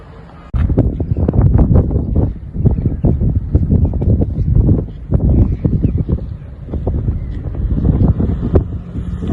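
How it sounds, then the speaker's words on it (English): Gusty morning wind outside Calais, France buffets the microphone in loud, irregular rumbling bursts that rise and fall throughout, with no other clear sounds. "A bit windy this morning."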